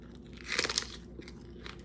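Thin crispy chicharron bitten and chewed up close, a loud crackling crunch followed by a few smaller, quieter crunches.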